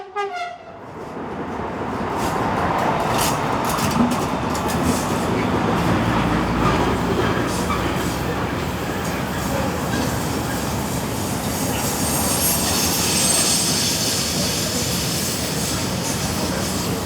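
Spanish freight locomotive 256005 rolls down a grade with a steady, loud rumble of wagons and wheels, rhythmic clicks and faint squeal building over the passing train.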